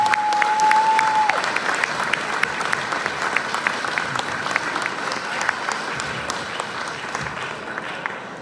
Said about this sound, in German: Super, herzlichen Dank und großen Applaus.